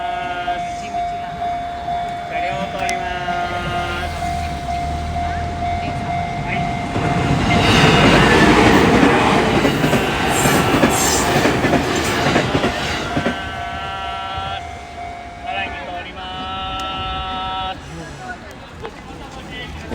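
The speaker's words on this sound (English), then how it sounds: "Train's on its way. They come through fast." A fast train roars through a station in Japan, swelling loud in the middle then fading, with a steady horn tone and bell-like ringing before and after.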